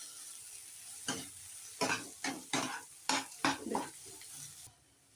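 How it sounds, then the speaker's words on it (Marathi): Potato bhaji with ghee and coriander being stirred and sautéed in a pan for a South Indian style dosa side dish: a run of close spoon scrapes and stirring strokes over a soft, steady sizzle, then quiet. "छान सगळं मिक्स करून 1-2 मिनिटं परतून घेऊया"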